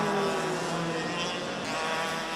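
KA2 Junior racing karts on the final lap down a circuit's main straight, a loud continuous engine drone with pitch sweeps as karts pass close by, under a commentator's voice.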